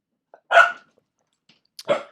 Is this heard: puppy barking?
yes